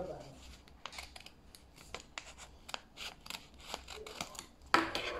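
Scissors snip through paper while a Deadpool mask is cut out, giving a quick series of close, crisp cuts with short pauses and a sharper crunch near the end.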